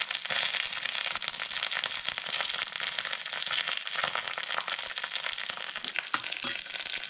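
Curry leaves and chillies sizzle in hot oil in a home kitchen, a dense, continuous crackling and spitting that stays loud and steady throughout with no talking.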